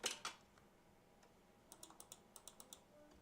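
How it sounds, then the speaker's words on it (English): Computer keyboard keys clack in a quick run of light taps, with a couple of louder hits at the start and a short burst of typing later, heard alone in a quiet room during a live stream about phone refurbishing. "It's looking like something on my keyboard is typing, I think."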